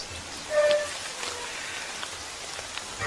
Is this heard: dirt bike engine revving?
no